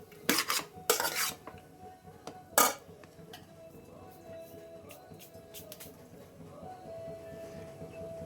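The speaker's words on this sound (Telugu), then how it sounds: "ఇట్లా మంచిగా ఇట్లా కలిపేసుకుందాము." Egg rice being mixed in a pan, a few loud metallic spoon-on-pan clanks early on, then quieter scraping and stirring with a faint steady hum underneath.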